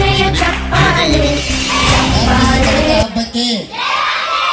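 Children at a school learning festival shout and cheer together loudly and close by, a continuous crowd roar with bursts of whooping and some clapping, and a voice heard briefly amid it.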